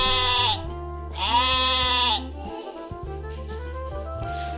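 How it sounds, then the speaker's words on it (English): A sheep gives two long, wavering bleats close by, one after the other. A steady low hum continues underneath and keeps going after the bleats stop. "This is a sheep."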